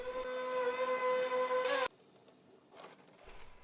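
A Lymow One Plus robot mower cutting grass in Australia gives a steady, close motor whine with its blades spinning for about two seconds, then cuts off abruptly into quieter background noise.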